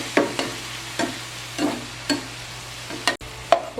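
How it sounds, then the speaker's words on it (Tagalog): Mushrooms sautéing in melted butter in a pan, a soft low sizzle broken by several distinct stirring scrapes and spatula knocks, close up with no voices. "melted na ang ating butter. Ilagay na rin po natin ang ating mushroom."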